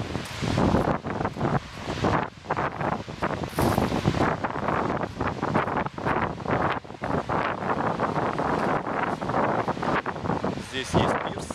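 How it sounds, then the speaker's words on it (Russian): Strong wind buffets the microphone on a hotel beach at Makadi, Egypt, with surf washing in underneath as someone speaks briefly over the gusty roar. "Пляж."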